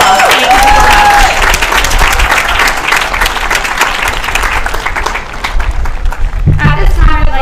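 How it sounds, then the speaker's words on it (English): Audience giving a round of applause at the 2018 New Dorp High School graduation, loud sustained clapping from a large crowd that fades slightly before a voice starts speaking near the end. "Let's give them a round of applause."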